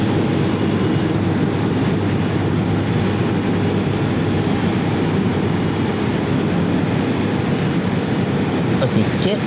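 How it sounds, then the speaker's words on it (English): Airplane on the ground at Cleveland Hopkins airport, heard as a loud, steady broadband roar that holds through the whole stretch. "so I wonder if maybe this airplane will be getting ready to go at some point today."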